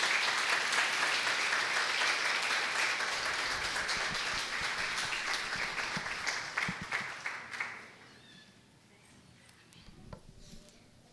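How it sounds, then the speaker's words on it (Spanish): At a women's church meeting at Casa de Oración, the congregation claps in a full, dense round of applause that holds steady, then thins and fades away near the end, leaving a quiet room. "Pueden darle un aplauso al Señor"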